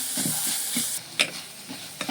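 Chopped tomatoes hit a hot pan of onions for a Kerala potato curry, giving a brief hissing sizzle that quiets into a few soft stirring scrapes and clicks.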